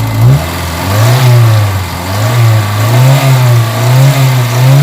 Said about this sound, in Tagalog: Ayan, maanda rin makina.